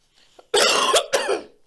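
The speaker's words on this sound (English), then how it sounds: "You are coughing?" A person at a table playing Jenga and eating Taco Bell gives two sharp, close coughs in quick succession, with a short pause between them.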